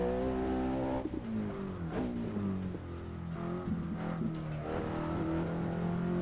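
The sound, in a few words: Volvo car engine at full throttle in Assetto Corsa video game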